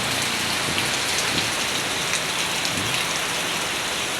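Heavy rain pours steadily during Typhoon Emong, a dense, unbroken hiss close by that never lets up, with no voices over it.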